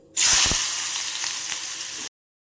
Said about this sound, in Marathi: आता तेल चांगलं गरम झालं आहे, तर कांदा टाकून घेते.